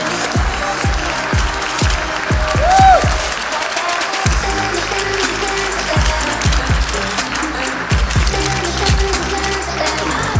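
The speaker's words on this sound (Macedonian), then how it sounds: "Да го поздравиме со најголемиот аплауз." A crowd at an inclusive dance show applauds, with rapid, uneven clapping against a loud background of rhythmic music.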